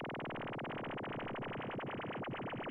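A dub siren-style synth patch made in Serum from a sine wave with LFO pitch modulation plays alone. Its sweeping up-and-down wail speeds up, so the oscillations grow quicker and more urgent.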